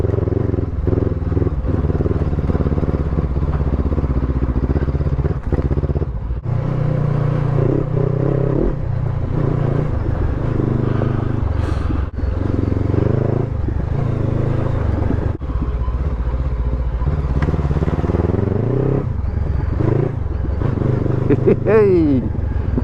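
Honda NX500 motorcycle ridden off-road, its engine droning steadily and loudly throughout with rises and dips of throttle, tyre and chassis clatter over rough ground, and brief louder revs near the end.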